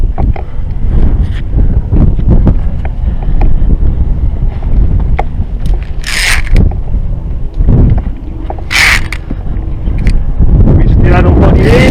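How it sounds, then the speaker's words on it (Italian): Steady wind buffeting the microphone outdoors on the Piz da Lech via ferrata, Sella group, Alta Badia, around 2,900 m, loud and continuous with gusty rumble throughout, occasional bursts of rustling. "Qui tirare un po' di vento."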